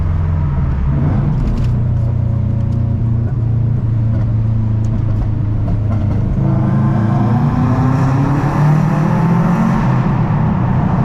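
A Subaru WRX accelerates through a road tunnel, its engine and exhaust making a loud, echoing rumble that climbs steadily in pitch as the revs rise, close and continuous throughout.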